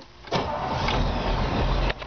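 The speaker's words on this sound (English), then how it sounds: "Touch the key, the car fires right up." A 1959 Chevrolet Corvette engine cranks briefly and catches, then settles into a loud, steady rumbling idle close by.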